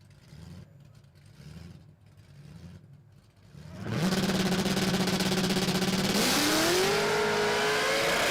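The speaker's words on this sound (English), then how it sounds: "listen to this shriek out of this exhaust" A distant engine note pulses for a few seconds, then a race car at the Garrett Brisbane Jamboree screams in at full throttle, its exhaust shrieking and climbing higher in pitch, very loud and close.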